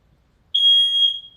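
A smoke alarm sounds a single shrill, piercing beep of under a second, loud and alone against near silence.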